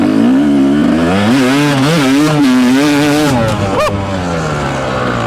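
A Yamaha YZ dirt bike engine revs hard nearby, its pitch climbing and wavering through repeated throttle blips before dropping back to a loud idle.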